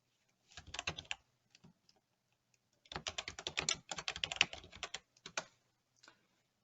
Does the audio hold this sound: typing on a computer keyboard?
yes